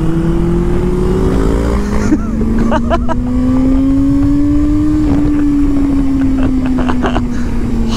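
A Honda CBR400R motorcycle accelerating hard on a test ride, its engine note climbing steadily and loudly up close with a gear change midway, wind rushing throughout and faint voices mixed in.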